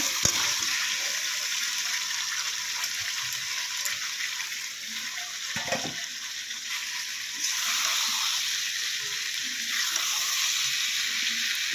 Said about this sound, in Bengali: দেখো, ভেজে রাখা সাজনা আলুগুলোকে এখন ঢেলে দেওয়া হলো।